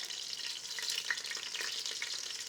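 Chicken pieces cook lightly in a pot for a chicken gumbo ya-ya, giving a soft, steady sizzle with faint stirring crackles, quiet and continuous with no talking.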